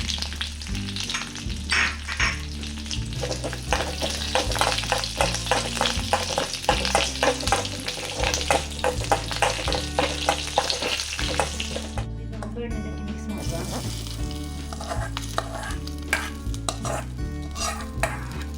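Long green chillies fry in a hot tempering of oil, a loud, close, unbroken sizzle with rhythmic scraping as a spoon stirs them in the pan, all without any voices.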